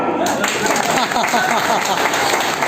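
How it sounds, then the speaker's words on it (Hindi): Audience applauding at a poetry performance, dense close clapping from many hands that stays strong for a couple of seconds, with a voice under it. "खुल के हंसो, ताली बजाओ"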